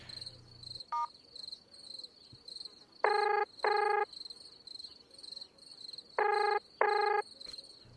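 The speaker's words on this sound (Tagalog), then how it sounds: "Tawagan ko nga muna si Dali." Telephone ringback tone while a call is being placed: two paired bursts of ringing, around 3–4 s and again near 6–7.5 s, clear and steady over faint crickets chirping in the quiet background, with a brief dial tone near the start.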